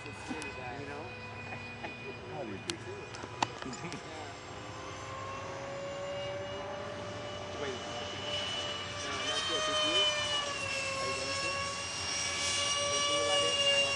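Su-34 jet aircraft flying with thrust vectoring, a steady loud roar that swells and shifts in pitch as it passes, with spectators' voices heard faintly beneath.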